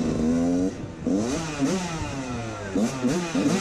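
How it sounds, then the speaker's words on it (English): A two-stroke dirt bike engine revs repeatedly, rising and falling in sharp bursts with a raspy buzzing tone, fairly close, with faint voices in the background. "But he's on the two-stroke, brother."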